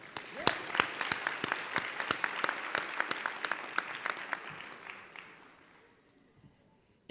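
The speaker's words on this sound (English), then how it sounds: "Give yourself another round of applause." Graduation audience applauding at a Harris-Stowe State University ceremony, a dense wash of many hands with sharp individual claps, steady for about five seconds before fading away to quiet.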